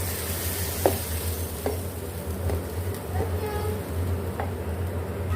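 Onions and tomatoes frying together in a pan for chicken salan, a steady close sizzle with scattered stirring clinks and scrapes, continuous throughout with a low hum beneath.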